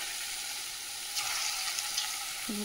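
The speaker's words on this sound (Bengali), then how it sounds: "আস্তে আস্তে ছেড়ে দেবো, দিয়ে ভেজে নেবো সব।" Dhoka pieces fry in hot oil on low gas, a bright steady sizzle running throughout with a brief rise in crackle midway and a soft clink near the end.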